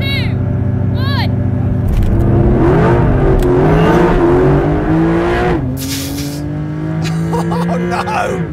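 2025 facelift Porsche 911 launching at a drag race start: a loud engine roar climbs and drops through gear changes after an earlier electronic tone sequence, with excited voices heard over it.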